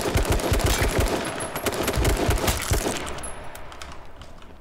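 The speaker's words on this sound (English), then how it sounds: "Who else was shooting at this fool?" Gunfire in the H1Z1 battle royale game, a burst of rapid shots close by at first, then scattered cracks and a few metallic clinks that fade toward the end, with no voices.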